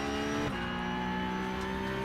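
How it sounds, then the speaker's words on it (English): A race car engine from the iRacing video game drones steadily throughout at close range, with a sustained high revving note that shifts pitch slightly midway. "Struggling to hear you over the sound of this car."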